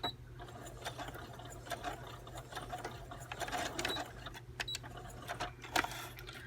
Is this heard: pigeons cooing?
no